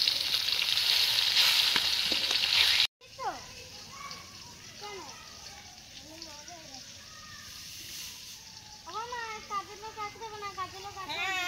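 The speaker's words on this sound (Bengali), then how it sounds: "এই মাছগুলো ভাজা হতে থাক" Small fresh fish fry in hot oil with a loud bright sizzle for the first few seconds, then it cuts off and voices talk over a faint background.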